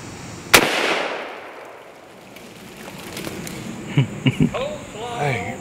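A single sharp gunshot cracks at a shooting range and echoes away, followed by people talking.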